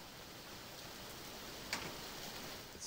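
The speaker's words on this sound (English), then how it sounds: "It's still raining" Steady, even hiss of rain from the RoomBreak game fills the background with one faint tick partway through, soft and continuous with no voices.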